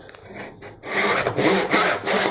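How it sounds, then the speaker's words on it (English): A hand saw rasps through a wooden board for side table stretcher tenons, starting with a few light strokes and then settling into loud, steady back-and-forth cutting strokes up close. "there's always a point on the saw that goes all the way through the board"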